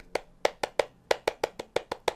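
Rhythmic hand clapping of a Pramuka scout clap pattern, about a dozen sharp, close claps in a quick, slightly uneven beat, with no talking.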